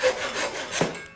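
Hand saw cutting short one-inch wood blanks for a perch stool wedge, a brief rasping stroke sequence of scraping rubs, close and moderately loud, with no voices.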